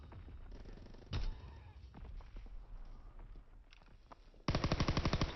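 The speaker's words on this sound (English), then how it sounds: "there I was just shooting at my teammate to try to get him to rotate" Gunfire in a Call of Duty ranked Hardpoint match: scattered shots and impacts early on, then a fast, loud automatic burst of evenly spaced rounds near the end.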